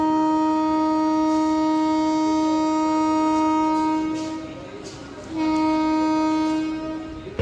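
A train arrives at Dindigul Junction station and sounds a long, loud, steady multi-tone horn that briefly fades, then resumes with a second blast over a background of station rumble.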